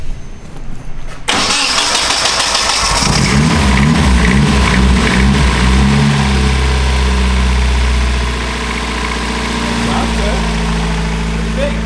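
A Honda Civic engine with a new exhaust cranks and catches, then runs loud and rough with a low, uneven knocking rumble through a throaty exhaust.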